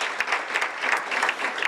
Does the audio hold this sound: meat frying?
no